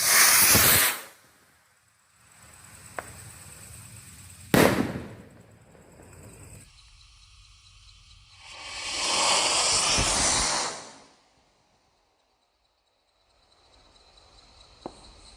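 Roman candle fireworks lit for Ramadan 2024 throw out long, loud hissing, spraying bursts separated by sharp pops and quieter crackling gaps, with no voices.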